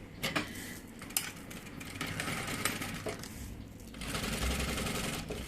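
A sewing machine stitches the fabric lining of a double baby-bottle holder, its quick mechanical whirring running in short bursts with small clicks and pauses between passes.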